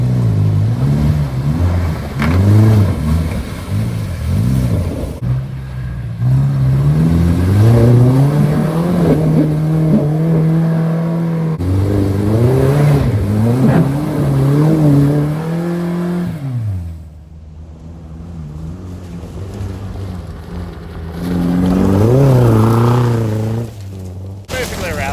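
A Ford OBS truck driven hard off-road like a rally car, its engine revving and surging through the run, loud and close, with talk over much of it.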